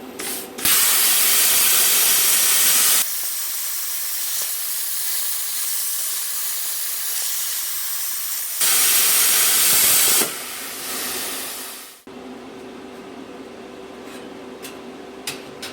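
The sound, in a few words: CNC plasma cutter firing and cutting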